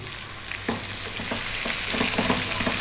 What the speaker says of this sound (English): I'm going to add my chili right now and the ginger garlic paste